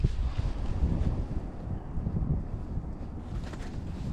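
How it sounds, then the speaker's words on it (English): Strong wind gusts buffet the microphone on the Mississippi River during late fall fishing with snow flurries, a steady low rumbling roar that swells and eases over several seconds, with faint water sounds beneath. "Oh, that wind is gusting up right now."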